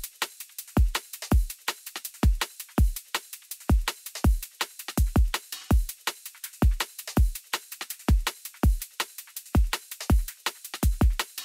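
Liquid drum and bass drum pattern playing alone, booming kicks and sharp snares with bright hats in a fast, syncopated breakbeat groove, loud and close.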